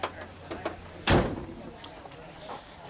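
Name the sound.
car door shutting on a 1960 Plymouth Fury convertible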